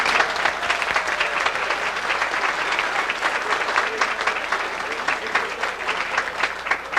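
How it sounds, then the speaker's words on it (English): A crowd applauds at a 50th birthday ceremony for the San Francisco Bay Bridge, with dense, sustained clapping throughout and a few faint voices mixed in. "Let's give her a big round of applause."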